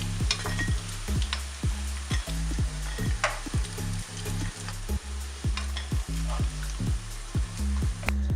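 Soya chunks fry in hot oil with a steady broadband sizzle, broken by a regular series of scraping stirs from a spoon moving them around; close, loud and continuous, with no voices.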